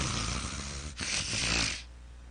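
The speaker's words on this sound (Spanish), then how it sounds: "Y está roncando" A person snores during a church Bible study session, one long rasping snore swelling and then fading out, close and alone with no talk over it.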